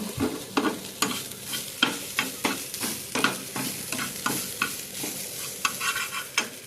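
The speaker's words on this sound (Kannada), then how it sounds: "ಫ್ರೈ ಆಗಲಿದೆ" Chicken gravy fries in a pan while a spoon stirs and scrapes it in a steady rhythm of sharp, close strokes over a soft sizzle, with no talking.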